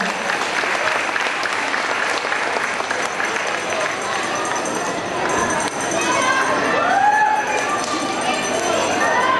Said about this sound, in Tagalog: Palakpakan natin!